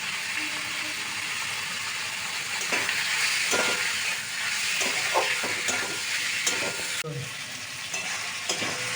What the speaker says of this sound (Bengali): লবণ দেব দিয়ে ভালো করে একটু আঁচ কমিয়ে কষে নিতে হবে হলুদ